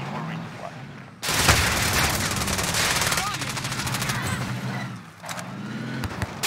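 Rapid automatic gunfire in Call of Duty Warzone erupts suddenly and continues in dense bursts, loud and close, with a brief pause before more shots resume.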